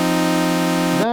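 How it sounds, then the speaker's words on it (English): An Elektron Analog Four MK2 analog synthesizer drones on a steady, rich harmonic note as a second oscillator is brought in, the pitch bending upward just before it cuts off. "We bring in the second oscillator."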